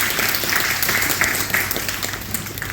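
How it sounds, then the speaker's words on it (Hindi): Applause from an audience at a farewell ceremony for the district collector in Bilaspur, a steady continuous patter of many hands clapping throughout, moderately loud with no clear talk. "जोरदार तालियां फॉर कलेक्टर।"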